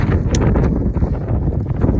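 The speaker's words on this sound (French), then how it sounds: "Il y a des rafales" Mountain wind gusting hard against the microphone, a dense low buffeting roar that swells and dips with each gust, no voices over it.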